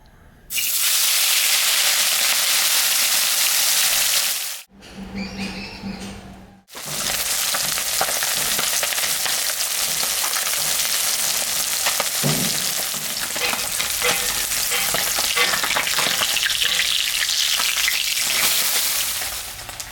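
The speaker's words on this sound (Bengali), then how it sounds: "মাছটা এখন আমি ভাজবো" Puti fish rubbed with turmeric fry in hot oil with a loud, continuous, close-up sizzle that briefly drops away partway through, then surges back and holds steady to the end.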